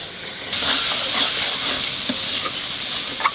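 Water hits frying spices and turmeric in a hot pan while fish curry is being cooked, setting off a sudden loud, steady sizzle and hiss that holds for about three seconds, with a few brief stirring scrapes.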